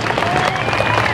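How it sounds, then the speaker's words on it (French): Short burst of audience applause at a live comedy show, steady and fairly loud throughout with a dense crowd wash and no clear pauses. "On va applaudir."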